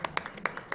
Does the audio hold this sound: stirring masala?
no